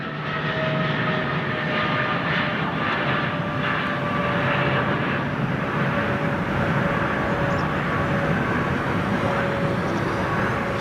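Big jet engine with a loud, steady whooshing roar and a sustained whine layered over it, continuous for about eleven seconds with no voices.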